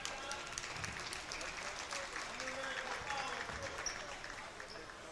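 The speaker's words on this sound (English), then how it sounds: "Good round of applause for Joshua LaHillier as he makes way" Modest applause ripples through a high school boys' basketball gym as a player leaves the game, a light scattered clapping under a commentator's voice with court noise around it.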